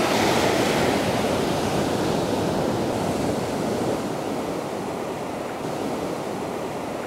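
Sea waves on Dhanushkodi beach make a steady, loud roar of surf with wind rushing over the microphone, continuous and close, with no voices.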